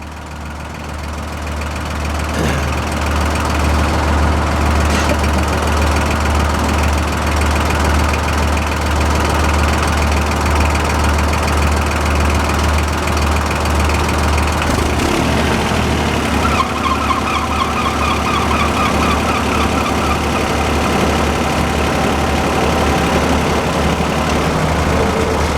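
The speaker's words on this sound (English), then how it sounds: "So we're gonna get the blower going if everything goes good." A sawmill blower engine starts and settles into a loud, steady running drone that continues throughout, with a shift in tone around the middle.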